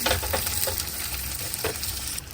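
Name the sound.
small onions sautéing in a pan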